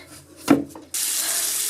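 A newly installed bathroom sink faucet is turned on after a knock, releasing a steady, loud rush of running water into the basin.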